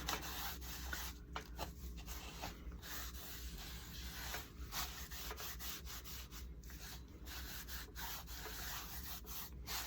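A cloth wipes clear wax back across a piece of thrifted furniture, producing soft, close, continuous rubbing strokes with a faint rhythmic swish and no talking.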